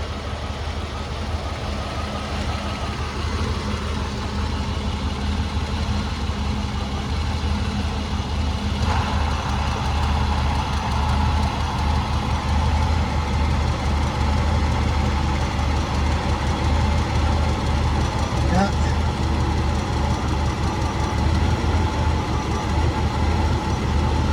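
A Mercedes W126 car engine idles warm with the air conditioning on, a steady, loud drone humming continuously with a constant whooshing blower noise over it, no voices, unchanging throughout.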